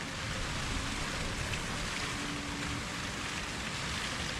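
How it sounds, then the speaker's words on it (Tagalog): Heavy rain pouring down outdoors in a rural area, a dense, steady hiss of falling water with no pauses, fairly soft and even throughout. "Lakas pa man din ng ulan."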